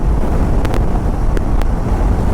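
Strong coastal wind batters a motorbike's microphone on a seaside ride from Kanyakumari toward Dhanushkodi at about 85 km/h, a loud, constant low roar with brief buffeting gusts.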